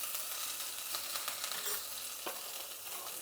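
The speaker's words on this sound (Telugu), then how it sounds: "ఇలాగనే సింపుల్గా పోపు పెడుతున్నాను నేను." Mustard seeds, grated ginger and green chillies sizzle in hot oil for tempering, a close, dense crackling hiss with scattered sharp pops throughout.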